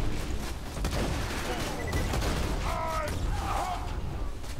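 Gunfire in the Borderlands 2 video game, rapid bursts of shots and mechanical clatter layered over game effects, with a voice talking at times through the busy mix.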